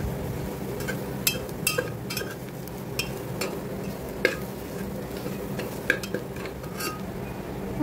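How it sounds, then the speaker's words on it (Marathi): Onion with a raw coconut and garlic paste sautéed in a pan, a low continuous sizzle broken by scattered sharp clicks and scrapes of a spoon stirring against the metal, without talk. "हे पण आपल्याला चांगलं परतून घ्यायचं"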